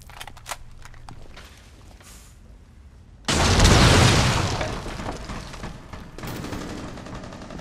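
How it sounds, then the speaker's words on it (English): A frag grenade detonates in the mobile shooter Rainbow Six Mobile with a sudden loud, deep boom that rolls and decays over a couple of seconds, preceded by scattered small in-game clicks and followed by a lighter burst of noise. "Frag grenade out!"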